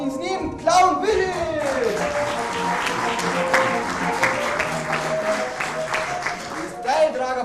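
Audience applause for the witch Minka in a circus-style arena show, a steady wash of clapping lasting several seconds with cheering voices mixed in.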